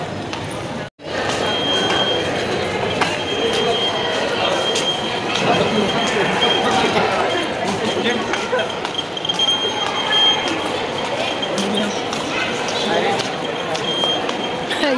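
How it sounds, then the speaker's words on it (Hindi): A train rumbling and clattering at Ayodhya railway station, a steady loud wash of wheels and carriages with faint squeals, while people talk throughout. "ये रहा अयोध्या का स्टेशन"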